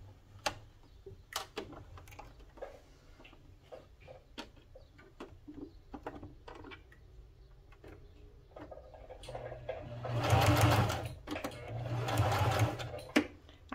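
Sewing machine stitching a crazy quilt over batting, heard as a soft ticking run through much of the clip, then two louder, denser bursts of stitching near the end; no speech.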